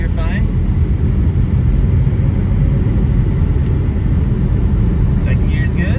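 Stock Honda car engine running while driving, a loud steady low rumble throughout with a brief voice at the start and end.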